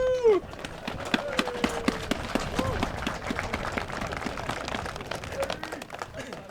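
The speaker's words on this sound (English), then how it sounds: "Let's give them a round of applause." Scattered, fairly faint clapping from a gathering honours pre-1980 war reenactors. Sparse individual claps spread over several seconds, with voices and a tonal sound at the start.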